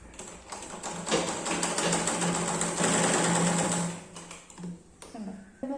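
A sewing machine stitches a pleated skirt for a princess-cut blouse outfit, running in a steady, fairly loud whirring burst for a few seconds before easing off into quieter handling noises.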